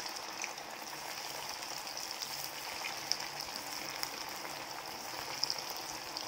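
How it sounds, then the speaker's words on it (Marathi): Coriander vadi fry in hot oil over medium gas, a soft, continuous crackle and sizzle with scattered small pops, heard faintly and close with no voices. "आता मी इथे तेल तापत ठेवलेला आहे, वड्या आता आपण तळून घेणार आहोत"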